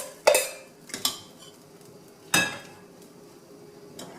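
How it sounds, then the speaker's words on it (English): Toor dal being stirred in a cooking pot, a few distinct clinks and scrapes of a spoon against metal spaced across the stretch with quiet gaps between, close and moderately loud. "And stir it around"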